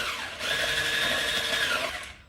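Electric mixer whirring steadily through chocolate cake batter as an egg is added, a continuous close motor drone starting after a brief lead-in and tapering at the end.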